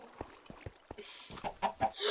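A chicken in a video game clucks repeatedly in short, choppy bursts, fairly close, with a few louder squawking notes toward the end.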